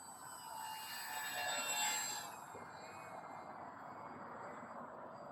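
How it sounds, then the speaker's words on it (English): A Durafly Prime Tundra RC airplane flies slowly overhead, its electric motor giving a thin, high whine that rises, peaks, then fades to a faint, steady hum in the distance. "slow flying, as I said, is just super excellent with this RC airplane."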